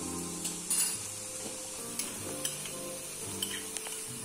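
Chopped garlic sizzles in olive oil at the start of a seafood risotto, a steady bright hiss close by with faint intermittent clinks of a pan and spoon, no voices.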